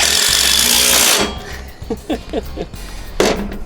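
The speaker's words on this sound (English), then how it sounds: "Busy stripping out my bolts." A power tool runs loudly for about a second while stripping bolts on a modified KT196 go-kart, then cuts off, followed by scattered metallic clinks and clatter of the parts nearby.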